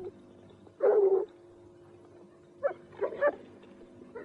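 Dogs give one loud burst of barking, then a few shorter barks a little later, close by against a quiet background.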